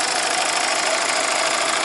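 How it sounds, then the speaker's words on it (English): Steady, even rumble of a Mazda CX-5 2.2 diesel engine idling close by, a continuous mechanical drone with no voices. "Very clean engine bay, ticking over nicely."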